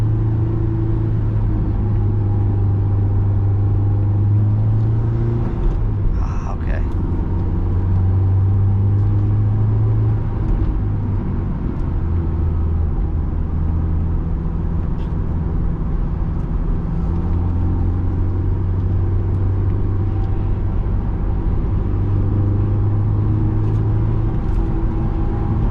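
Honda S2000 AP2 from 2007 pulling hard, its engine drone steady and loud from inside the cabin throughout, with rising harmonic bands of a sustained acceleration run.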